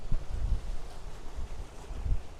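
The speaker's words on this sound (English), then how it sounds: "as you can hear, it's pretty windy" Strong wind gusts buffet the microphone on an exposed seaside spot, with a steady rushing roar and low thumps that could be surf breaking on rocks, continuous and loud with no voices.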